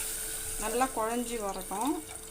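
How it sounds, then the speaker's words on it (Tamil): Water pours into a pan of lightly roasted moong dal for payasam, a brief steady splashing stream heard under someone talking. "இப்போ வந்து இது வேகிறதுக்கு தேவையான தண்ணியை நான் ஊற்றிக்கிறேன்"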